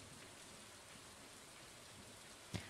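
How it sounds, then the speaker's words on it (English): Steady patter of rain falls in the Stardew Valley video game, a soft even wash with one brief louder tap near the end, no talking over it. "Okay, it's raining"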